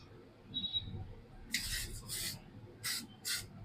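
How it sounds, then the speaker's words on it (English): L'Oreal setting spray mist pumped over a full-coverage makeup look, giving four short, close hissing bursts in two quick pairs with nothing else around them. "I'm using this L'Oreal setting spray mist"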